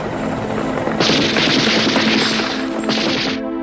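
A loud battle sound effect of heavy booming gunfire and crashing blasts that roars continuously for several seconds with no voices, then cuts off abruptly.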